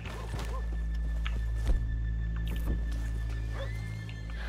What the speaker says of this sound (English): Leave the horses here off the main drag.